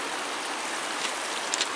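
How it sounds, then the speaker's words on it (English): A small creek flows steadily with a soft, continuous wash of water, moderately close and without talk, a couple of faint splashes rising briefly near the end. "There's a little creek."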